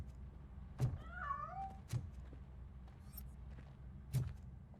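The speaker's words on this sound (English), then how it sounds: "That cat must be hiding inside." A cat in the RoboCop: Rogue City video game gives a short, wavering meow, with three sharp thuds or footsteps spaced through the quiet, faint background.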